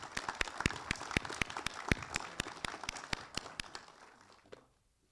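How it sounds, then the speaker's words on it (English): Audience at a military awards ceremony gives sparse, crisp applause, distinct individual claps in a fairly quiet hall that gradually fade out after about four and a half seconds. "Please join me in a round of applause."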